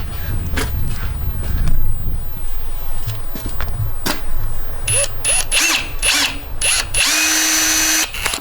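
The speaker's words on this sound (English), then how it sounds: "Now I've got a mark, I'll do a little bit of a pilot hole." A power drill bores a 10mm pilot hole while fitting OCAM side rails to a Toyota Landcruiser 79 Series, with short close bursts of high whine, clicks and handling noises between runs and a longer steady spin at the end.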